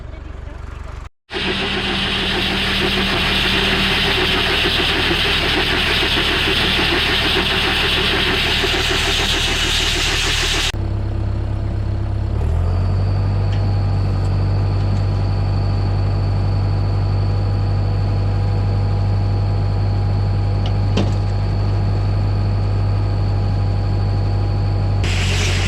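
A tractor fitted with a loader bucket runs steadily nearby, its engine a continuous low drone that shifts to a heavier, deeper hum partway through, with voices heard faintly underneath.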